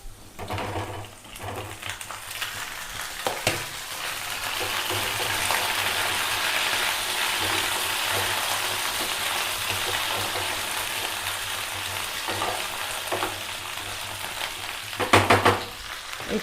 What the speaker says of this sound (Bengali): এই দেখুন, এবারে আমার আলুটা হয়ে গেছে মোটামুটি ভাজা।